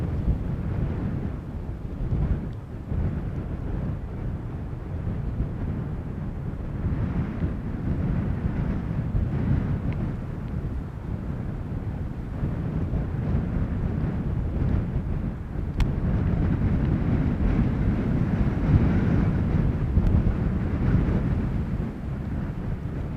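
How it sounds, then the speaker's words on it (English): Strong wind buffets the microphone at Amsterdam Schiphol Airport beside runway 18R, a steady, loud low roar with gusts that swell and build over time, with no talking. "wind is definitely picking up here, ladies and gentlemen. I don't know if you guys are hearing it on the stream on the audio as well"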